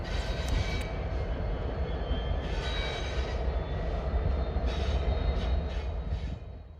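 A freight train rolls into East Deerfield Yard, rumbling past with heavy, continuous low rolling and clanking of railcars, fairly close, fading slightly at the end.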